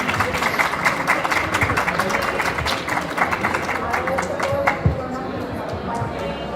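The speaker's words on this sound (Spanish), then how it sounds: "Fuerte el aplauso, iniciamos con la presentación." Audience applauding at a book presentation at a book fair, steady clapping from a crowd in a hall, with voices murmuring underneath.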